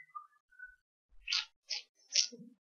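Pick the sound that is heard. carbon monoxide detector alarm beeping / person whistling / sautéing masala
person whistling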